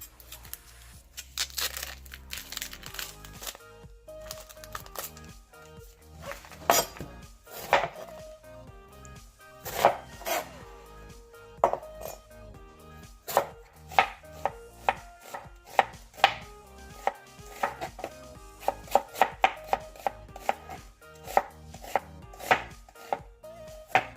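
Half an onion being chopped with a knife on a board for Korean spicy stir-fried pork, a long run of sharp close knocks in an uneven rhythm that speeds into quick regular strokes.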